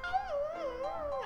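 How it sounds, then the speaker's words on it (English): A new puppy howling outdoors somewhere in a residential neighborhood, one long wavering howl that rises and falls, moderately distant and alone without other sounds. "Someone got a new puppy in this neighborhood and it's like outside howling."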